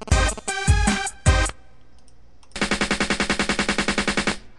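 A snare roll programmed in Fruity Loops: a few separate snare hits, a short pause, then a rapid even roll of about a dozen crisp strikes, loud and dry with no other sound.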